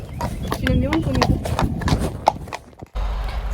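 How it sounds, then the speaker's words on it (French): A small horse's hooves clip-clop in a steady rhythm during a riding session, fairly close and loud, while a person talks over them. "Mon petit cheval."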